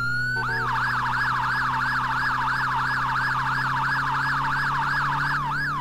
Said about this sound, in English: Whilst the siren's running, if I double tap and hold page up, I'll get a piercer for 5 seconds